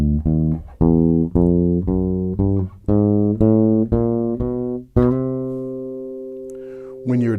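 A chromatic scale climbing note by note on bass guitar, a steady series of deep plucked tones ending on a long ringing note, close and clear with no talking.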